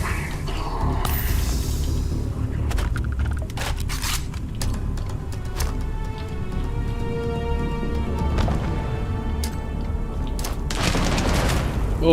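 Explosions and weapon fire in Starfield on extreme difficulty, played live: repeated loud booms and sharp cracks over a dense, rumbling game soundscape, with bursts clustering near the start and the end.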